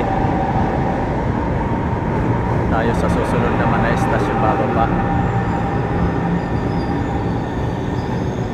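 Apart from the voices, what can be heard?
light rail train arriving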